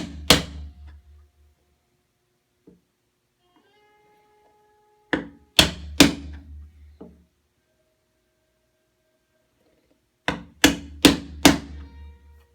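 A chisel being struck to chop mitered corner dovetails in wood, heard as sharp close knocks in three separate clusters of two to three blows, with near silence in between.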